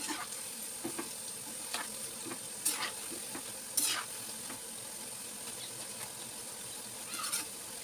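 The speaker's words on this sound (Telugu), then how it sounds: "ఇది ఉల్లిపాయలు కట్ చేసి పొగడి అయితే వేస్తున్నానండి ఎంతో కదండి కొంచెం వస్తుంది ఇంత అంతే ఫ్రై అవుతుందండి" Onion bajji fritters frying in hot oil, a constant crackling sizzle with occasional louder bubbling bursts and utensil clicks, close and without voices.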